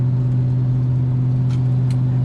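Inside a Ford Falcon XW GT with a 351 Windsor V8 on standard GT headers, a steady low exhaust boom drones while cruising around 2000 rpm at 60 km/h, a constant heavy rumble with no talking.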